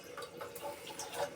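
Water is poured into a cooking pot while a tomato-based dish is being made, giving a steady, hissing splash that runs throughout at moderate volume.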